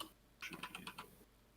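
A short burst of rapid typing on a computer keyboard, with about a dozen crisp key clicks in quick succession heard close and fairly quiet, then stopping.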